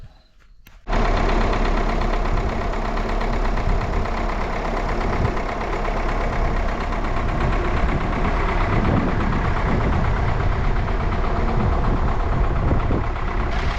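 A vehicle engine starts up to head out for spraying raspberries, then runs steadily at a low idle-like rumble, loud and close for the remaining seconds, with no talking.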